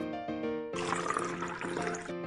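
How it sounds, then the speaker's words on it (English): Water is poured into a teapot as a short, hissing splash of liquid that starts suddenly and runs for over a second, with steady musical tones in the background. "Pour some water in it."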